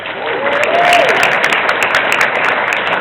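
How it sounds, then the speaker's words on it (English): Audience applause at a WonderCon 2013 convention panel on TV writing: a dense, loud, sustained wash of clapping from a large crowd, with a brief voice rising faintly through it early on. "Yeah, we're just going to applaud."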